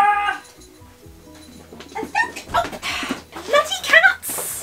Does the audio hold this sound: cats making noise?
yes